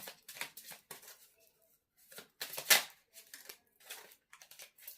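Tarot cards being shuffled by hand in quick rustling bursts, close and fairly loud, with brief pauses between riffles and a sharp snap near the middle.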